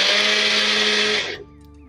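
A kitchen mixer grinder whirs loudly as it grinds sun-dried cashews into a coarse powder, a steady close roar that cuts off and winds down after about a second and a half.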